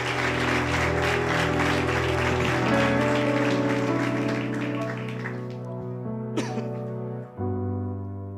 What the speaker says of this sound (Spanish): si va a aplaudir al Señor, apláudelo